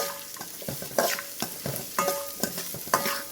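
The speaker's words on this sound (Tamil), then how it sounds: "சின்ன வெங்காயம் போட்டுக்கலாம் நல்லா பொன்னிறமாக வர வரைக்கும் நல்லா வதக்கணும்" Small onions sautéing until golden make a soft, steady sizzle under rhythmic spatula strokes that scrape the pan about once every half second.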